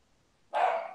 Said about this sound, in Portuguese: tem uns cachorros aqui que eles ficam nervosos às vezes